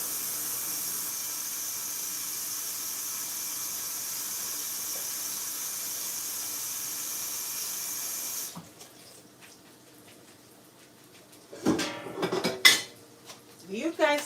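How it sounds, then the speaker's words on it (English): Salt fish is washed in water in a home kitchen to remove salt, with a steady running tap hiss that stops, followed by clattering bowl and utensil knocks and splashing. "So we're washing the saltfish again."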